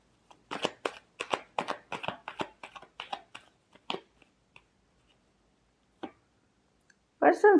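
Tarot cards are shuffled in quick crisp riffling clicks up close. The bursts taper into sparse taps and near silence, then a voice starts at the end.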